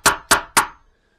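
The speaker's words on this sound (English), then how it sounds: "basically what I'm going to do, you guys, is just get going with the chisel. Just want to take out just the width of the hinge" Three sharp, evenly spaced strikes on a chisel cutting out a hinge recess in a door, loud and close, each impact decaying quickly, then silence; no talk.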